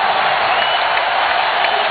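Crowd noise filling an arena at a college basketball game between Arkansas and Fresno State, a loud, dense, continuous roar of cheering with no clear breaks.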